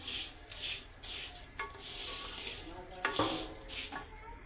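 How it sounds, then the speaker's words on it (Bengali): Fried flattened rice (chira) stirred in a clay pot, repeated rough scraping and rustling strokes over a light sizzle, close and rhythmic, with a few sharper clatters. "হওয়ার পরে নাড়তেছি হচ্ছে ক্রিসপি রাখার জন্য"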